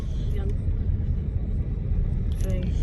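A manual Nissan Qashqai engine runs during a driving lesson, a steady low rumble close by, with brief speech over it at the start and again near the end.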